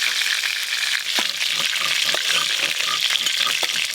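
Pieces of rohu fish frying in hot oil in a home kitchen, a continuous close sizzle with scattered crackles and a few stirring clinks.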